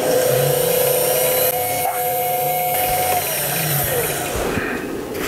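Loud, steady whine of a power drill boring a hole in metal, stepping up drill sizes, holding constant with a brief dip midway before tapering off.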